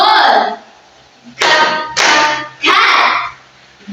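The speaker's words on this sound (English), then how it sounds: "so you are going to clap your hands" Children clap their hands in time to spoken syllables in an elementary-school English lesson, three broad, loud bursts of clapping spaced about half a second apart, following a shorter opening burst.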